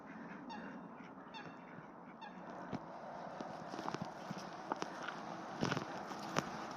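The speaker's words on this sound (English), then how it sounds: "a fair few duckies here" Ducks on a lake settle down for the evening in an autumn country park, with faint honking calls early on, then scattered footsteps and light crunches on a path nearby, fairly quiet overall.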